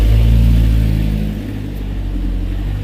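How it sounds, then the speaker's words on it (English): A car drives past on a street in Tunis, a loud, close engine rumble and tire roar that peaks and then eases slightly as it passes, with no talking. "Oh, there's a car coming."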